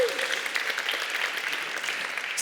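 Brief snap-clap applause from an audience in a room at a film festival industry talk, a short steady burst of mixed snapping and clapping at moderate volume, no voices.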